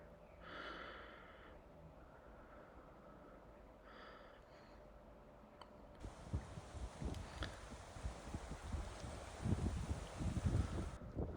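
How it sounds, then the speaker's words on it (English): Strong wind roars across a microphone on a beach hike along the Bibbulmun Track on Western Australia's south coast, a faint lull first, then loud buffeting gusts that swell and thump for the last several seconds. "It's really windy as well."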